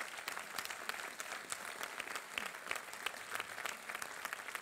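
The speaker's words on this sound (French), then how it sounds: "Je voudrais remercier Christelle Di Marco, une grande soprane, vous pouvez l'applaudir." Sustained audience applause for a soprano at a municipal New Year's greetings ceremony, dense and steady clapping from a sizeable crowd throughout, with no talking over it.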